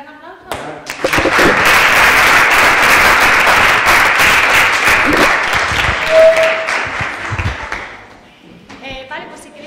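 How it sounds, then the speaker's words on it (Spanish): Audience applause at a conference session on sustainability in the One Asia Community, a loud sustained round of clapping from a room of people that swells, holds for several seconds, then fades as voices resume. "pues un gran aplauso"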